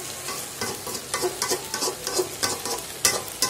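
Malabar spinach and shrimp frying in a pan while being stirred continuously, steady sizzle with rhythmic scraping strokes of the spatula, close and alone without talk.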